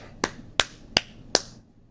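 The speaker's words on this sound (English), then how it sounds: "I'm going to clap" One person claps four times at an even, unhurried pace, each sharp, close clap standing alone against near silence.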